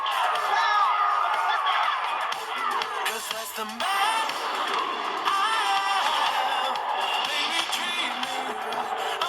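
A crowd cheers, whoops and shouts loudly and continuously, with voices rising and falling in a bright, busy roar.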